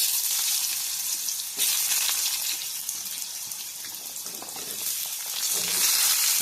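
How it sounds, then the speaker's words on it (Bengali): Cut potatoes drop into hot oil with tempering spices for a vegetarian potol, potato and pumpkin curry, setting off a loud, close, steady sizzle that surges suddenly partway through and keeps hissing without any voices. "ফোড়ন খুব ভালোভাবে হয়ে গেছে, এবার দিয়ে দেওয়া হচ্ছে কেটে রাখা আলু"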